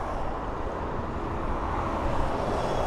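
A Jet2 airliner inbound from Malaga approaches East Midlands Airport, its steady broadband engine roar held at an even level throughout, fairly distant, with no talk over it.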